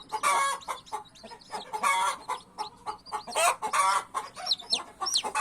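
Hens and chicks in a coop cluck and squawk busily at close range, bursts of loud harmonic calls interleaved with thin high chick peeps and no voices.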